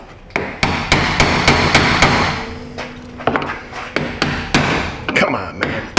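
A hammer strikes a chisel during an in-tank fuel pump replacement on a 2016 GMC Sierra, with sharp metallic blows in quick irregular bursts, loud and close, pausing briefly midway before resuming.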